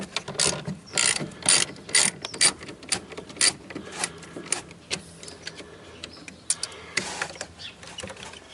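A 10mm deep socket ratchet wrench works the 12-volt battery terminal nuts on a 2013 Toyota Prius. Rapid ratcheting clicks come in short close bursts with brief pauses between strokes.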